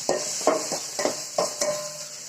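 Onions and green chillies sauté in a pan over a faint background sizzle while a spoon scrapes and taps the pan about six times in an even rhythm, close and clear, with no voices.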